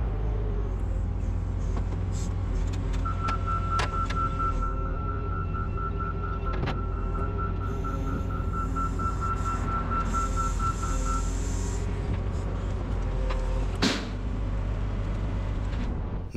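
A large truck idles with a deep low rumble, its steady reversing alarm beeping in a long even series before stopping, while sharp clanks and knocks ring out over the continuous engine drone.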